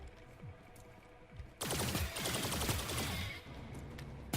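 Quiet background suddenly gives way to rapid bursts of game gunfire, a loud fusillade of shots lasting a couple of seconds before easing off.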